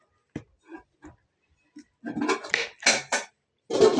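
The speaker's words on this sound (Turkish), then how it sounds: "Şöyle ortadan yarıyorum biberleri" A knife slices fresh peppers in half on a hard surface, close up: a few light clicks and taps, then several crisp, crunchy cuts in quick succession.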